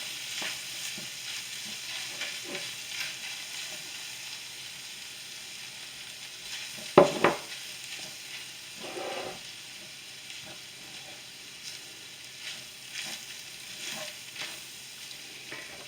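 Sausage and flour fry and get stirred in a pan for gravy, a steady soft sizzle with a short louder scrape or clatter midway and faint stirring movements throughout.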